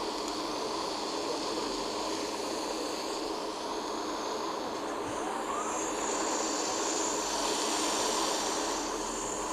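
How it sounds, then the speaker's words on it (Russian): A fixed-wing airplane in Extreme Landings Pro builds into its takeoff roll, giving a steady, loud engine roar with a broad hiss that stays even throughout. "Начинаем наш взлет"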